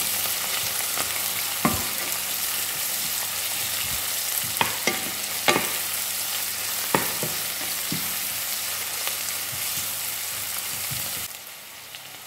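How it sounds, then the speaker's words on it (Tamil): Onions fry in oil with mustard seeds and fennel for a crab curry, a constant close sizzle punctuated by a handful of sharp pops and spatters before the sound drops away near the end. "இப்போ வெங்காயத்தையும் போட்டு நல்லா வதக்கி கொண்டிருக்கிறேன்."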